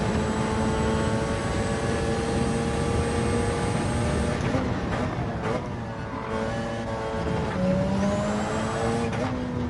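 Race car engine in Gran Turismo 7 on a lap time challenge at Spa, a steady droning whine with shifting harmonic tones as the car coasts and gears change, continuous and fairly loud throughout.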